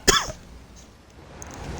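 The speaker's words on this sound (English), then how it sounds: "sorry I have to cough" A single short, sharp cough close to the microphone, followed by quiet room noise.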